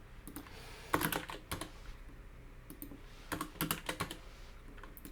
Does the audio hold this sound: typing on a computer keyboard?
yes